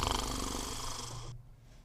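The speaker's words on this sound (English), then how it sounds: "Is there snoring now?" A person snores loudly and close by, a single rough, rattling breath that stops abruptly, leaving near silence.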